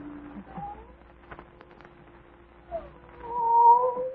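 A cat yowls in drawn-out, wavering cries, starting faint and swelling louder toward the end, with quiet background noise.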